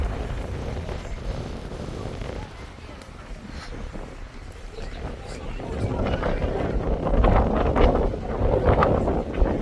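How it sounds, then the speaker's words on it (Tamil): Steady wind buffets the microphone in a low rumble that swells louder toward the end, in the mountains at Engelberg-Titlis, Switzerland. "காத்தடிக்குது."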